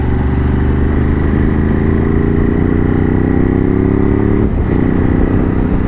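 A Ducati Desert X ridden very slowly on a road on squirmy tyres, its engine a loud, close, steady rumble with a brief dip in pitch partway through, no voices.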